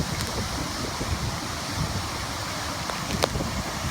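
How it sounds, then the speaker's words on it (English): Adamsons Falls and its creek crossing in Tasmania give a constant broadband roar of rushing water, steady and enveloping, with no talk and only faint irregular clicks over the wash. "This is the creek crossing, and there's the falls."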